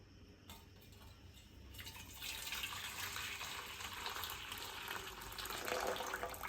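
Hot water poured into a kitchen sink or basin to soak stove burners, a steady splashing gush that grows fuller and louder after the first couple of seconds, running alone without talk.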